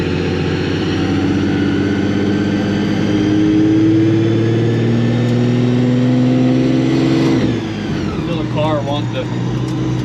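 A supercharged Nissan 350Z fitted with a Procharger and straight-cut gears revs hard while driving, a loud, close engine note with rising whining pitch that builds steadily, then drops sharply near the end before climbing again.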